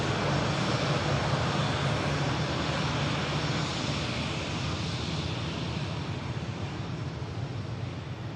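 Aer Lingus airliner in traditional livery, its engines producing a sustained roaring rumble with some wind, loud at first and easing slightly toward the end.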